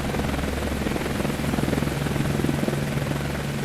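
An airplane engine in a video game, a loud continuous droning roar with a steady low hum and rapid pulsing beneath it, constant throughout with no voices.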